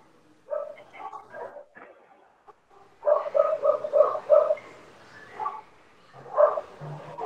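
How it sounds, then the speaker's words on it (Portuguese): A dog barks during a video call: short yapping bursts in several clusters, fairly close and separated by quiet gaps, with no speech over them. "Tem um cachorro falando."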